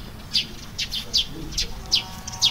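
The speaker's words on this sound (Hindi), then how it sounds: "आज चिड़ियों की आवाज है।" Birds chirp outdoors on a pleasant day in hilly country, giving bright, short chirps in a regular repeating pattern, roughly two or three a second, over faint background ambience.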